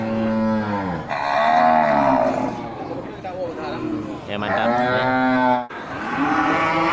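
Cattle, including a cow and her calf, moo loudly and repeatedly at close range in a livestock pen, with someone speaking over and between the calls.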